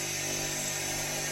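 A grinder tapering the ends of metal parts during a Peugeot J9 coffee van restoration, heard as a steady, close, high-pitched whine that runs unbroken through the moment.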